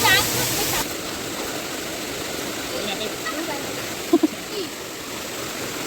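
A steady rush of flowing water fills the clip, continuous and fairly loud, with a couple of brief knocks near the end.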